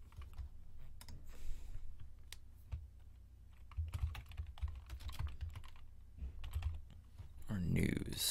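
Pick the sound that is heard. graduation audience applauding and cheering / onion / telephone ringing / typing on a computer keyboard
typing on a computer keyboard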